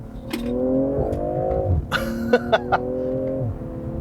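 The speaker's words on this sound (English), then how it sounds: "if you start playing with the paddles or going into sport mode here, it starts doing some burbles and some crackles from the exhaust" A BMW M340i idling in sport mode, its exhaust giving a steady low burble with a few sharp crackles and pops clustered near the middle, close and fairly loud.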